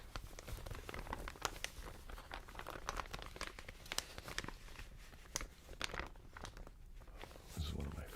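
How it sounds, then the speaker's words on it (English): Large plastic bag crinkled and rustled by hand, giving a dense run of crisp crackles and soft rustling that keeps going without a break, close and fairly loud. "This is one of my favorite plastic bags. It has this kind of rustly quality that goes with the crinkle."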